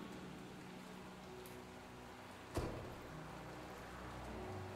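Steady rain falls in a Batman: The Telltale Series game scene, a continuous even hiss throughout with one brief louder thud partway through.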